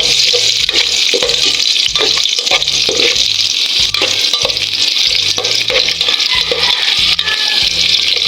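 Garlic and onion sautéing in a pan, with a steady loud sizzle and a spatula stirring and scraping in regular rhythm, close and continuous with no talk.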